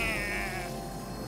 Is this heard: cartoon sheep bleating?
yes